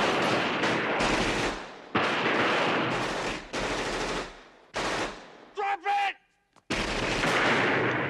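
Machine gun fire in a 1980s action movie scene, loud sustained bursts with brief gaps between them, ending in a short silence before another long burst.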